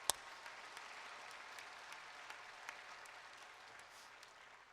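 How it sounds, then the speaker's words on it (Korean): A congregation at a church anniversary service claps together, a soft, fairly distant, even patter of applause lasting throughout with a sharp clap at the very start. "우리 그 하나님 감사함으로 우리 박수로 한번 영광 돌리겠습니다"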